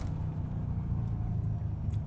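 BMW E92 M3 engine rumbling low and close while downshifting behind a garbage truck, a steady deep drone heard from inside the car.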